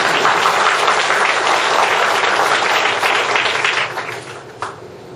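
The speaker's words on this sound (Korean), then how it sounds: "나로 발사와 이스라시아 출범식 동시에 축하할 박수를 다시 한번 칩시다." Audience at a launch ceremony for an East Asia center claps loudly and continuously, the applause thinning and fading toward the end with a single sharp clap standing out.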